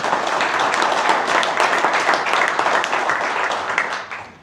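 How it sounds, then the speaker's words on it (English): A meeting audience gives a round of applause for Steve, a mechanic now working at a parts store, with dense close clapping that holds steady for about four seconds and then fades. "So how about a round of applause for Steve?"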